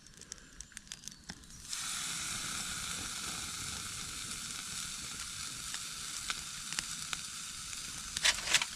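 Chilli steak laid onto a hot surface over a wood fire in a Bushbox XL stove outdoors in the woods, breaking into a loud, continuous close sizzle after a few faint clicks, with occasional pops.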